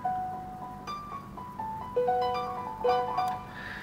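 A digital piano voiced from Roland JV-1080 and Audity synth modules plays a short run of clear sustained notes, several ringing together as a chord near the end, close and moderately loud with no talking.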